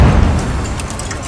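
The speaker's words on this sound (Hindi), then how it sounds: "उसने जैसे ही रॉकेट दागा, जबरदस्त धमाका हुआ" A loud, deep boom from a shoulder-fired rocket launcher during a military raid in Gaza, a heavy low rumble that opens strongly and slowly fades over about a second, with no talk.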